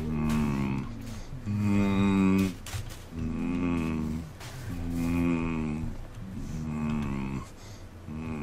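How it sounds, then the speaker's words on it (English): Cannibals in the video game Sons of the Forest give out long, strange moaning calls that come in repeated loud swells with brief dips between them. No speech is heard over them. "Just two guys making some weird sounds around me."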